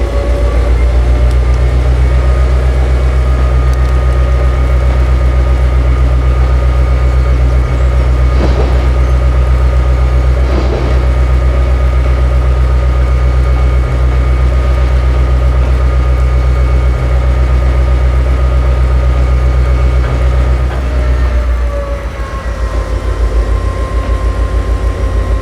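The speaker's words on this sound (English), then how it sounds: "There are powerful cooling fans on the locomotive." Locomotive cooling fans in Train Simulator run as a loud, constant mechanical drone with a low hum and steady tonal whine, holding unchanged for the full stretch apart from a slight dip near the end.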